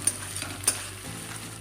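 Ginger and garlic paste stirred in a frying pan, with a soft continuous sizzle and a couple of light spoon scrapes against the pan, close by.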